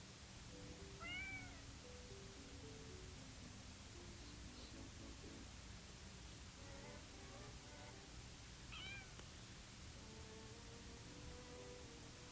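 Several cat meows, some rising and falling in pitch, sound at intervals over a steady hiss of background noise, with no talking.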